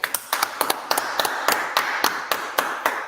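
A church congregation claps in a steady rhythmic beat of sharp hand claps, fairly close, with no talking over it.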